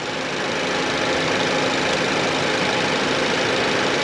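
A car engine idles steadily after a fuel system and intake cleaning, a constant even rumble with a faint hum, close and alone with no talking.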